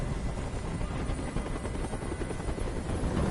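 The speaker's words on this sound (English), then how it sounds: "Tell that helicopter to get out of here." Steady, loud helicopter rotor drone hovering close by in the video game Detroit: Become Human, a dense continuous thrum filling the whole stretch with no voices.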